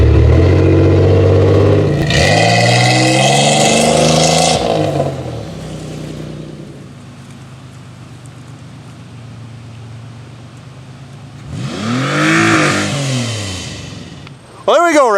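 A Pontiac 6000 AWD car: loud engine rising and revving, fading out as it moves off, then a second close rev with a rising whine, while someone talks.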